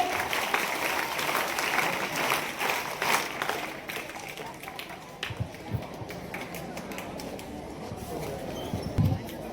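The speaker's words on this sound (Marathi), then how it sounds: "सर्वांनी टाळ्या वाजवायचे।" Audience clapping at a high school annual gathering in Waki Shivne, a steady mass of applause from a crowd that thins toward the middle and swells again, with voices mixed in.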